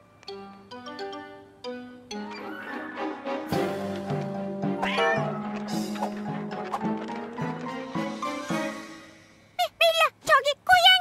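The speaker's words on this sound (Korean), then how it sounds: "밀라, 저기 고양이." A cartoon cat meows several times in quick, loud bursts near the end, after a stretch of bright musical notes.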